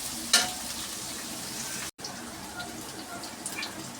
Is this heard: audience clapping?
no